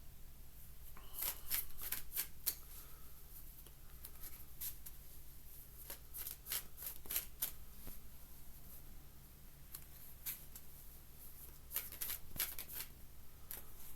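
Tarot cards are shuffled repeatedly up close, quick papery riffles and flutters coming in irregular bursts over a low steady hum.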